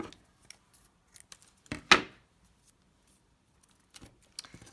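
Scissors trimming paper for a handmade puppet, a few soft snips and one louder crisp cut near the middle, close and quiet, with small handling clicks around them.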